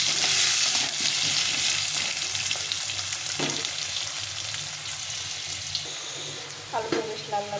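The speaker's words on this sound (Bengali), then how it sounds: "এখন আমি আলুগুলোকে একটু প্রথমে ভেজে নেব।" Potatoes fry in a pan with a bright, continuous sizzle up close, broken by a few clattering stirs and scrapes toward the end.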